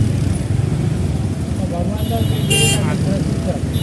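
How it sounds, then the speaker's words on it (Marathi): Busy town traffic crawls through a crowded chowk in Mahad, with a steady rumble of car and motorcycle engines and a sharp car horn honking near the middle. "आता ट्रॅफिक बघा इथे किती गर्दी आहे या ठिकाणी."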